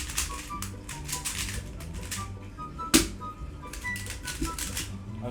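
An RS3 M 2020 speedcube is turned rapidly by hand, dense bursts of quick plastic clicks and clacks with one sharper snap in the middle, close and crisp.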